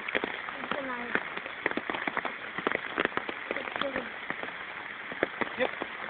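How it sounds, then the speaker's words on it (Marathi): Steady rain patters on a surface with scattered sharp drops, while a voice talks intermittently over it. "पण पाऊस पडतं ना"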